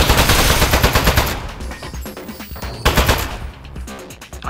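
Turret fire in the game Aperture Desk Job, a loud rapid machine-gun burst of dense repeated shots, pausing briefly before another rattling volley starts up close.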